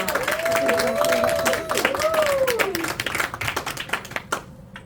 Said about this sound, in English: Please give her a big applause.